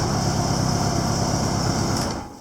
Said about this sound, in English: Idle's perfect, like a Honda should.